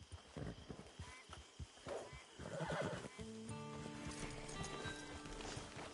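Horse in the Red Dead Redemption video game whinnies with a long wavering neigh after a run of close clip-clopping hooves, loud and clear with no voices over it.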